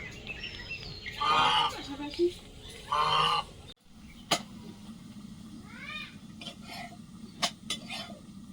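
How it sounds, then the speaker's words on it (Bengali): Two big ducks pass by outside a home kitchen and give loud honking quacks in two separate bursts, followed by fainter calls and kitchen clatter. "বড় দুটো হাঁস যাচ্ছে কাদের গো"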